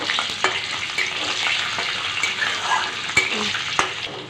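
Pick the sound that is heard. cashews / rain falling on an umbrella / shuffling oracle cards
cashews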